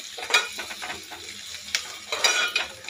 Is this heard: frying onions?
yes